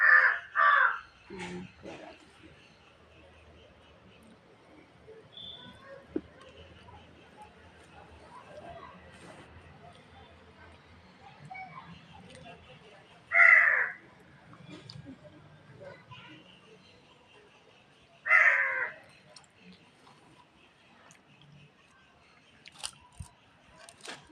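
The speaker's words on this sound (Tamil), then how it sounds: "காக்கா." A crow perched in a tree gives a few loud, harsh caws spaced apart: a cluster at the start, then single calls around the middle and later, over a quiet outdoor background.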